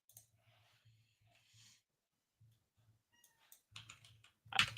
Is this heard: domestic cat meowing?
yes